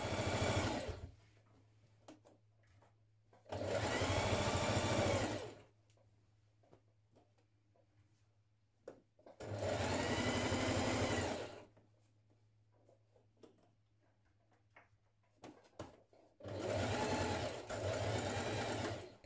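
A sewing machine stitches around the pocket pieces of a spring sheath dress in four separate bursts of steady running. Quiet pauses fall between the bursts, and a low hum carries on beneath throughout.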